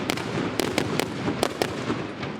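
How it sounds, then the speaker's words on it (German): Hundreds of ceremonial Böller firecrackers go off at the Sechseläuten festival in Zurich, sharp cracks and bangs popping irregularly over a dense crackling roar, with no talking. "Also das sind die vielen 100 Böller, die sind jetzt am Werk."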